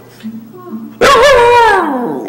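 A dog gives a sudden loud, drawn-out whining yelp that sweeps up and down in pitch for about a second, close to the microphone, with quiet room noise before it. It sounds more like a whine than a clean bark.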